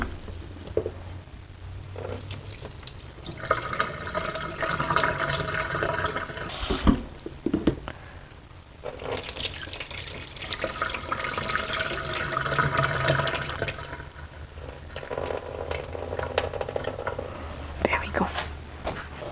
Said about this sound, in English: I've put in some water and washed the rice the first time